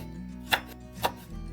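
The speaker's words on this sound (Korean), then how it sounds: "식감 살릴 수 있게 너무 얇지 않게 썰어주세요." Two crisp knife chops through an onion on a cutting board, evenly spaced and close, over a low steady hum.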